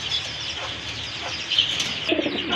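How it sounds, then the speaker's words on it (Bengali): Pair of white grizzle pigeons cooing, soft low coos close by over a constant background hiss, with no speech. "এক জোড়া হোয়াইট গ্রিজের কবুতর খুবই চমৎকার এক জোড়া কবুতর"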